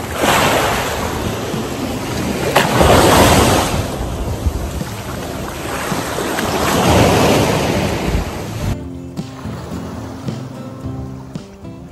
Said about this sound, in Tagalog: Sobrang lakas ng alon, pero masarap yung tubig.